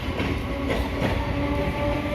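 A Patna–Dibrugarh passenger train stands at Phulwari Sharif station in India, giving a steady, fairly loud rail rumble with a faint tonal hum and no voices.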